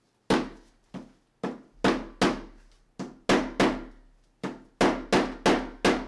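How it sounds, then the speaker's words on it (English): Repeated sharp thuds of a metal spoon smashing activated carbon in a bag, about a dozen blows in uneven bursts, close and crisp with short decays. "when I hit this metal spoon against the activated carbon"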